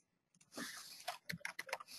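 Quiet, quick keystrokes on a computer keyboard come in short irregular bursts of clicks.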